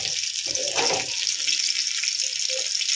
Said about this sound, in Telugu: అప్పుడే చేప అంతా కూడా సమానంగా ఫ్రై అవుతుంది